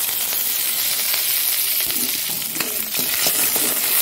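Mustard seeds, dried red chili and curry leaves frying in hot oil for a lentil dish, a steady close sizzle with faint crackles and pops and no talking.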